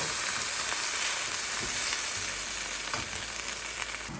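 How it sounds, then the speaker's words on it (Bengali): Dried fish and home-grown chillies frying in a pan, a loud, unbroken hiss of hot oil with a few faint stirring scrapes, close and steady with no talking. "এখন এই জিনিসটাকে আমি খুব ভালো করে একটু ভেজে নেব"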